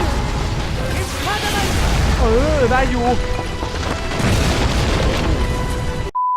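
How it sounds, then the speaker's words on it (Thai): A chair explodes in the Harry Potter and the Deathly Hallows Part 2 video game with a booming blast amid ongoing game effects, while a player talks over the noise. "แค่เก้าอี้ก็ระเบิดได้"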